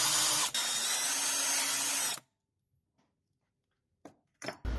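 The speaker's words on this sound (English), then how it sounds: "We decided to clean up the pre-drilled bolts supplied to ensure no wires could get damaged on the sharp metal edges. This was quick and easy with a countersunk drill bit." A power drill with a countersunk bit cleans the sharp metal edges of pre-drilled bolt holes on a Suzuki Jimny, whining steadily and loudly for about two seconds, then stopping, followed by brief clanks.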